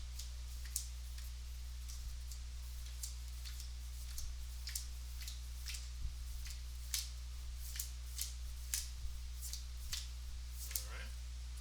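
Playing cards dealt one by one onto a table for a fighting-themed card and dice game, a steady series of soft, crisp flicks and taps, close and fairly quiet against a faint background hum.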